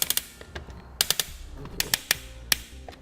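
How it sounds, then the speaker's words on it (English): Screws being driven while a custom third brake light camera is mounted: a series of sharp mechanical clicks and ratcheting ticks, close and irregular, with no talking. "We'll then install our new screws."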